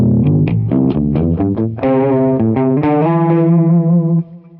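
Guitar notes run through a Mooer Pitch Box set an octave down, giving a deep, bass-like tone: a quick series of plucked notes, then a longer sustained note that fades at the end.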